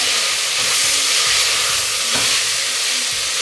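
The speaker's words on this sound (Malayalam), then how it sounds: "ഇഞ്ചി വെളുത്തുള്ളി പേസ്റ്റും തക്കാളിയും എല്ലാം നന്നായിട്ടൊന്ന് വഴണ്ട് വരട്ടെ" Ginger-garlic paste and tomatoes sauté in hot oil in a pan for a Kerala beef curry, giving a dense, constant, close-up sizzle with faint stirring scrapes and no voices.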